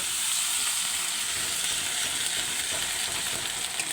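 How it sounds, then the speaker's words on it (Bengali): Chopped onion and ginger-garlic paste fry in hot oil, making a close, even sizzle that holds steady for the whole stretch with faint stirring and no talk. "পেঁয়াজটাকে একটু ভালো করে লাল লাল করে ভেজে নেব আদা রসুনের পেস্টটা দিয়ে একটু ভালো করে ভেজে নেব"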